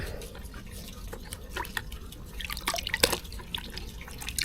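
A large caladium bulb is rinsed under water, giving scattered drips and splashes that grow busier toward the end, heard alone without talk.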